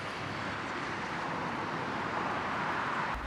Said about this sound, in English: Or the sound of the distant highway?